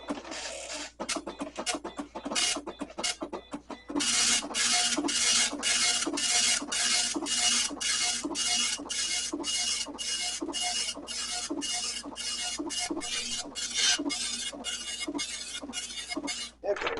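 Apple II printer printing a power test page, a loud, close dot-matrix buzz of repeated rhythmic printing passes with short gaps between lines.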